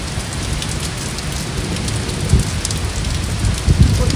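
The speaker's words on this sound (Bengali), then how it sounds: "আর বৃষ্টি হচ্ছে এদিকে।" Rain pouring steadily during a strong storm, a dense loud hiss of drops on surfaces with a few heavier gusty bursts.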